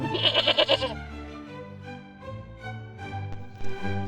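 A goat bleats in a short wavering burst up close, followed by lower drawn-out bleating tones in a folk fairy-tale setting, with no speech over it.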